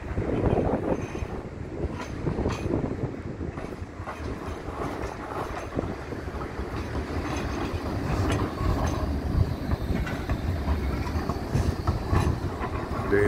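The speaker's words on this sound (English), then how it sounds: "Tram's going really slow." A tram rolls slowly along Blackpool's central promenade, a steady low rumble and rattle of rail wheels continuing throughout with wind buffeting the microphone.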